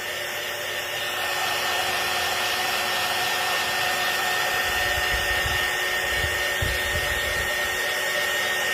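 Hair dryer drying a handmade vintage birthday card, a loud continuous whooshing hum that runs steadily for the whole stretch with no talk.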